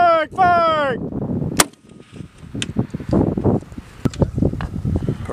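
An M3E1 weapon fired by a Marine infantry crew, one sharp close blast with a rolling echo afterward, preceded by a shouted voice and followed by wind and outdoor rustling.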